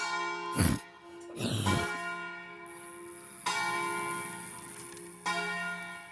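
Church bells ring out with long, sustained tolling tones, struck several times and left to resonate, heard from a moderate distance in open air.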